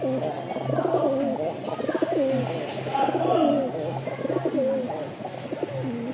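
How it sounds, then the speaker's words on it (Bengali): A pair of pigeons coos nearby in repeated soft, throaty rolling phrases, one after another, with a low hum and some faint background noise underneath. "2 পিচ কবুতর আছে, মাশাআল্লাহ।"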